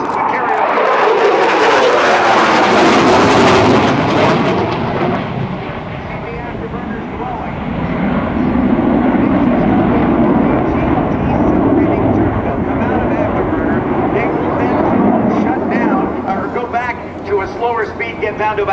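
An F/A-18F Super Hornet roars past at an airshow in a loud, sustained jet rumble that swells and fades as it passes, with an announcer talking over it.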